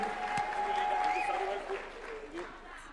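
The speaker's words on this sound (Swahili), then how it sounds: "Makofi kwa leader of majority." Applause for the majority leader at a party delegates' conference held at State House: a moderate patter of clapping from the assembled crowd that tapers off toward the end, with a voice or tone sounding over it.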